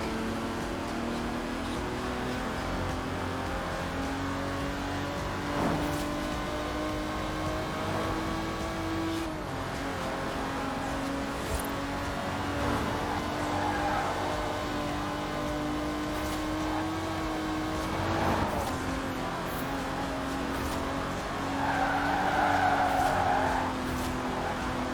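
In the Forza Horizon 4 video game, an Aston Martin DB5 Vantage grand tourer from the 1960s with side-draft carburetors drives on, its steady engine drone continuous and close, with occasional tire squeals.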